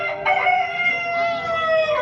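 A rooster crows once in a long, drawn-out call that falls in pitch toward the end. It sounds fairly close and clear, with no talking over it.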